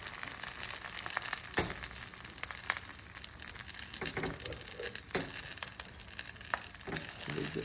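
A quesadilla frying in butter in a pan, a steady close sizzle with occasional soft crackles and pops, no talking.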